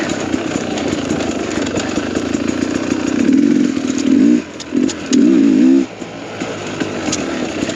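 A dirt bike engine fitted with a Lectron carburetor idles and putters on a trail, then revs in two or three surges that stumble and bog when the throttle is reopened, close and loud.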